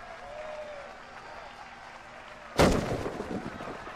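A single loud bomb blast in a video game bursts suddenly after quiet background, followed by a crackling, rumbling decay.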